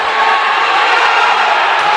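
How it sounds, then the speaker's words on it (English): A crowd at a college volleyball match between Eureka College and Dominican cheers and roars loudly and continuously, a dense wash of voices filling the gym for a couple of seconds. "Crowd really starting to become engaged"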